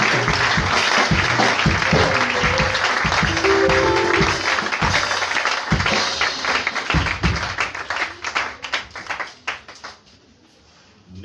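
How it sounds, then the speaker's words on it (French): A church congregation breaks into loud, sustained applause, dense and close, which thins into scattered claps and fades to near silence by the end. "Acclamons le Seigneur Jésus-Christ."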